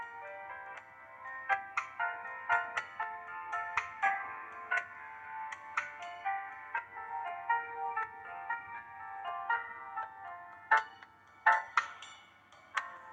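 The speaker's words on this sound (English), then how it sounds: "Looks like an internal phone. For paging doctors or patients, I guess." Internal hospital phone ringing in the Blackwell Legacy video game, a repeating electronic ringtone of bright chiming tones in a steady pattern, clear and isolated with nothing else beneath it.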